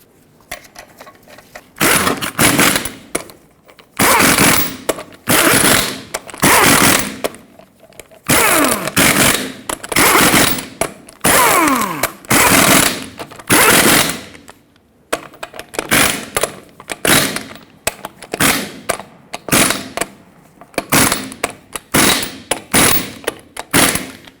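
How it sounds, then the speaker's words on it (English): Front wheel lug nuts on a 2011-2016 Ford F-350 Super Duty being run down with a power tool, all eight in a cross pattern: repeated loud, rattling mechanical bursts of about one to two seconds each, separated by short pauses. "Install all 8 lug nuts. We'll bottom them out in a cross pattern to seat the wheel evenly."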